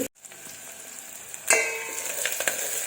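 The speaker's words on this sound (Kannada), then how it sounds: "ನೋಡ್ರಿ ಇದು ಚೆನ್ನಾಗಿ ಫ್ರೈ ಆಗ್ತಾ ಐತಿ" Capsicum seeds sizzling and frying in a hot pan, a steady close crackle that jumps louder partway through with a few sharp spits and pops.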